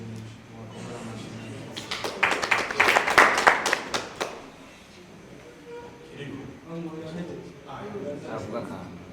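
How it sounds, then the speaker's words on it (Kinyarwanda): An audience claps in a brisk burst of applause to welcome guests, including a singer, at a hotel in Gitega, Burundi; a person talks before and after the clapping. "mubakomera amashyi"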